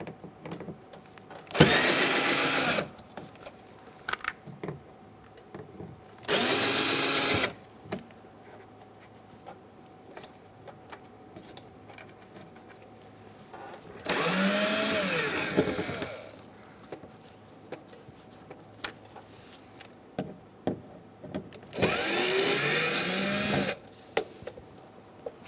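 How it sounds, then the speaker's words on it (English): A power screwdriver backs four speaker screws out of a 2004-2009 Mazda 3 front door panel, four separate whirring bursts of a second or two each, close and loud, with quiet handling noises in between. "We're going to take out 4 screws for the speaker"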